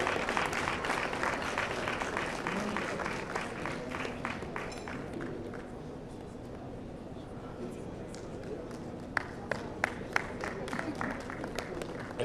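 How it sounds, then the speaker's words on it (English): Applause from a crowd at an awards ceremony rolls on under a steady, busy background, thinning later to a few scattered, sharper claps. "Let's give a big round of applause"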